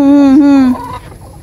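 A single loud, close rooster call, a drawn-out tonal cluck that breaks off and fades into quieter background noise.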